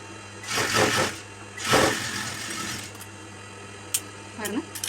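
Sewing machine stitching a cloth piece onto a chudithar, heard as two short bursts of mechanical whirring, close by, followed by small clicks and a voice speaking.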